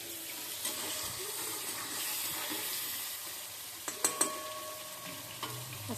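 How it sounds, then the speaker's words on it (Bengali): Food frying and simmering in a pan on a home stove, a steady soft sizzle with a few brief clinks of a utensil near the end, quiet and close with no talk. "সিদ্ধ করি নেই, এখন ভাজতে ভাজতেই সিদ্ধ হয়ে যাবে।"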